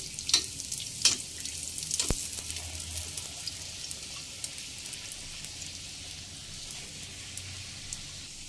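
Steady crackling sizzle of bhatura dough deep-frying in hot oil in a large kadai, with a few sharp clicks and clatters near the start.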